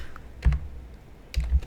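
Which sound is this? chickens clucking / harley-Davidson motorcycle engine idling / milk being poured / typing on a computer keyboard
typing on a computer keyboard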